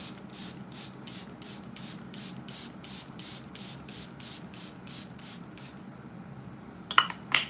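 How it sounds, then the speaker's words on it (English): Charlotte Tilbury setting spray misted onto a face as rapid pulsed pumps, about fifteen close hissing bursts in steady rhythm, followed by quiet and a couple of small clicks. "Just with the Charlotte Tilbury, I'm gonna do a final spray."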